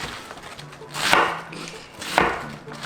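A knife cuts through cabbage for water kimchi, with two firm, separate chopping strikes about a second apart on a quiet background.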